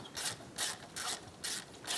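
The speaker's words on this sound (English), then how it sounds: "let's start by loosening up the pins that actually go through the caliper" Ratchet wrench backing out the caliper pins on the rear brake of a Yamaha YFZ450R ATV, five evenly spaced bursts of rapid pawl clicking, close and crisp, with no talk.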